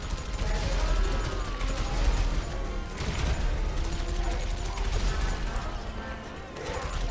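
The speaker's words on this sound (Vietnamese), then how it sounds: "Súng này bắn mới đã" Gunfire from a weapon in the GTA 5 video game, dense rapid bursts of shots with mechanical clatter, continuous and loud.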